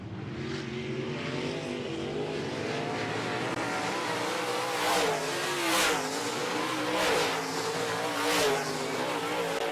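Modified race cars roar around a short track in a heat race, their engines droning loudly and continuously with rising revs as cars pass close by, a steady wall of engine noise throughout.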